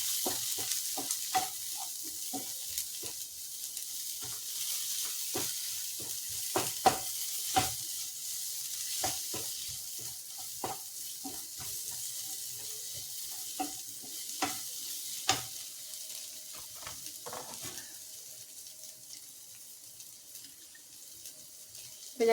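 Curry with turmeric powder stirred in a pan, a spoon scraping and tapping in irregular strokes over a soft background hiss, close and fairly quiet.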